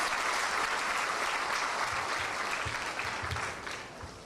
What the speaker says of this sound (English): Let's give her a lot of applause.